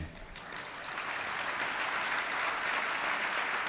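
An audience at a youth camp session applauds steadily, the clapping swelling slightly and holding as a dense, even patter.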